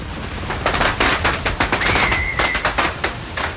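Rapid bursts of gunfire from the video game Fortnite, a dense run of sharp repeated shots filling the whole stretch, loud and close, with a brief whistling tone partway through.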